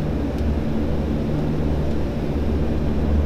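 Steady low drone of a Fokker 50 turboprop airliner's engines heard from inside the cabin at London City, a constant rumble with tonal hum and no talk over it.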